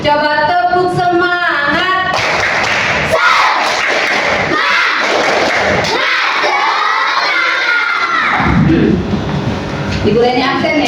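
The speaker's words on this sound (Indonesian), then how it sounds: "Coba tepuk semangat." Schoolchildren in an Indonesian classroom chant and clap together in a loud group cheer, with voices shouting rhythmically close by and sustained across the whole stretch.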